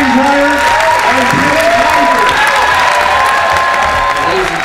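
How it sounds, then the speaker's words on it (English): At a film premiere, an audience applauds and cheers loudly, with dense clapping mixed with whoops and raised voices throughout. "Let's give a big round of applause for Mr."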